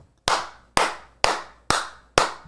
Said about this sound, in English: Let me clap to sync it.